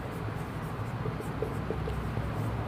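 Continuous scratchy pen or chalk strokes as vector addition notes are written for a class, a close, steady rasp with small taps throughout and no talk.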